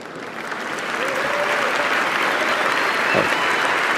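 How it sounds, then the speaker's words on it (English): An audience applauds during a graphic design software demo at the 2015 Adobe MAX conference; a steady, full wash of clapping from a large crowd builds slightly and holds throughout. "I bet you guys were gonna applaud on that one"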